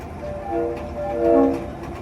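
An EMD GP7 high-hood diesel locomotive, built in 1950 for the Nashville, Chattanooga and St. Louis Railway, sits on a railroad museum turntable and sounds two short horn blasts over a steady low engine rumble.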